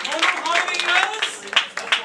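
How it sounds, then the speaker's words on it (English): Round of applause at an office felicitation celebration at English Caffe: uneven clapping in bursts from a small group, with scattered cheers and voices mixed in. "Great job, round of applause"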